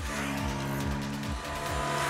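A 2022 KTM RC200 motorcycle engine revs freely on a track, with quick repeated rises and drops in pitch as the throttle is blipped, heard up close and steady with no talk.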